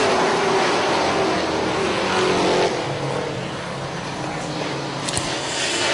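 Racing trucks roar around Charlotte's oval just after the green flag, a dense, loud wash of engines at full throttle that dips slightly midway and carries on steadily with no voices.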